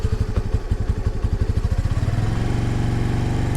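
A 2022 Honda NAVI motorcycle idles on its center stand in freezing weather after a slight choke reduction, its small single-cylinder engine pulsing in an uneven, sputtering rhythm that smooths into a steadier, faster idle, close and loud with no talk.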